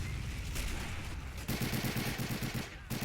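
Rapid gunfire rattles through a D-Day-style beach assault in a video game, with dense, steady automatic bursts mid-clip over a constant roar of battle noise and a few faint voices.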